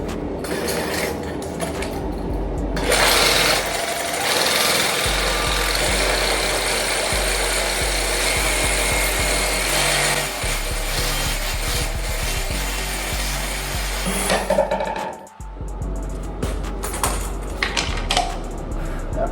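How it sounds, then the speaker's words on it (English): A saw cuts across a toilet drain pipe at floor level, a steady close rasping that runs for about twelve seconds, stops briefly, then resumes in shorter strokes. "you'll flatten it and cut across this whole pipe"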